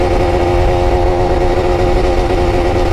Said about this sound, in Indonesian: Dia agak berebet-berebet ya. Memang masih dingin kali ya.